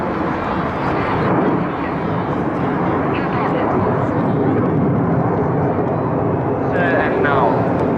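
Italian aerobatic team jets perform at the RIAT 2018 airshow, a broad continuous roar of several aircraft filling the scene at steady high loudness, with an announcer's voice running over it throughout.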